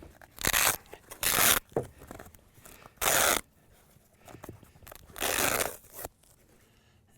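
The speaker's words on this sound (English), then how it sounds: "Let's see if we can't peel this padding off and get to the back of the armor part." Padding being peeled away from the back of a plastic body armor panel, heard as several loud bursts of ripping and crinkling separated by quieter pauses, close by and with no voices.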